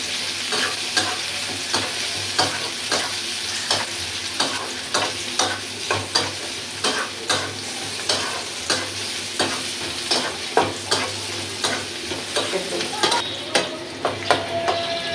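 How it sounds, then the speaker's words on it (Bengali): Garlic, onion and green chili fry in hot oil, a continuous close sizzle punctuated by regular rhythmic spatula strokes against the pan, roughly one every second, with no talking. "সুন্দর করে একটু ভাজা ভাজা করে নেই, লাল লাল করে নেই একবার।"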